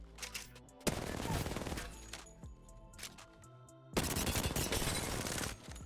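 Hipfire bursts from a gold-magazine weapon without a laser sight in Apex Legends, loud rapid automatic gunfire in two long sustained volleys separated by a brief pause and a few scattered shots.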